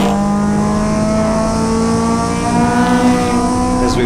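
A Triumph TR8 race car at a Winton circuit MG and Triumph race meeting roars loudly close by, its engine holding a steady high drone before the sound begins to fade as it moves away, with no voices.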